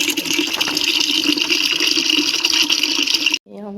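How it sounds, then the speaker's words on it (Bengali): Water runs from a timed public tap into containers and buckets, a steady loud gush close by that cuts off abruptly near the end before a voice speaks. "টাইম কলের জল পড়ছে, এখন টাইম কলের জল ভরে নিচ্ছি।"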